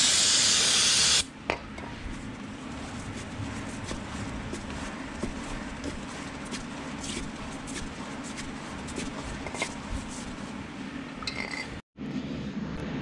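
Contact cleaner sprayed onto a brake rotor, a loud hissing burst at the start followed by quieter clinks and handling sounds of wiping and tools.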